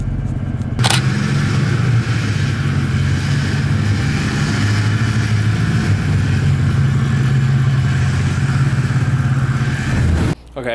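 A Mercedes C63 AMG engine runs under throttle, a loud, steady, deep engine drone held close for about ten seconds, with a brief sharp click near the start and the sound dropping off at the end.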